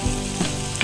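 Ground beef sizzles in a pan for lasagna, a brief steady hiss of frying with a couple of soft stirring scrapes.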